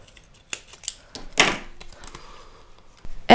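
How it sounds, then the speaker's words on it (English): Scissors snip through an old business card, cutting out a rectangle, giving a few sharp close clicks and crisp cuts with quiet gaps between them and a louder clack at the end. "I cut a rectangle out of them."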